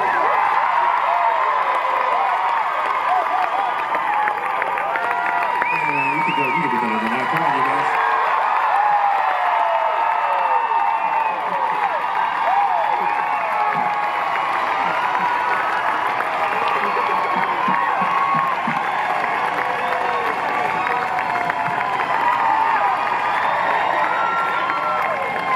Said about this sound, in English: How about a round of applause for Charity Rose?